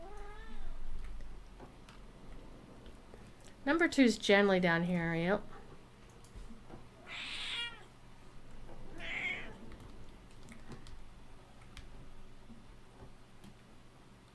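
A cat meows indoors, a cluster of strained, wavering meows, then two shorter calls further on, fairly quiet, with a voice talking briefly in between.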